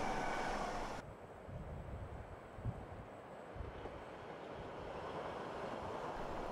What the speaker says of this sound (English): we catch an Innsbruck-bound empty timber train